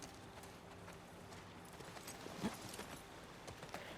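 Horse hooves clip-clop faintly at a steady pace in The Last of Us Part II, blended with soft ambient game sound and no talk over them.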